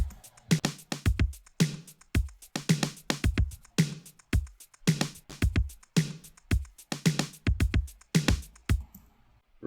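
Drum-driven song breakdown with synths and no guitars: punchy kick and snare hits land in a steady, evenly spaced pattern, fairly quiet overall, with no one talking.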